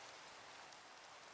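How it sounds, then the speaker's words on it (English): Rain falls steadily in the video game Minecraft, a soft even hiss of drops that is quiet and continuous for a brief moment, with no voices. "It's such a moody vibe with the rain."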